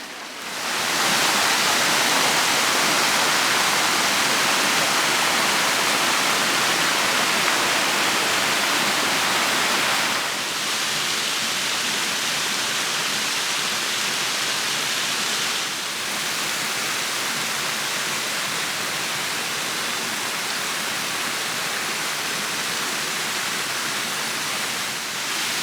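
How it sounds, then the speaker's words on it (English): A tributary brook rushes steadily and loudly for the whole stretch, a dense, unbroken wash of flowing water heard up close with no voices. "that's the tributary brook that comes down from up towards in front of New Barn"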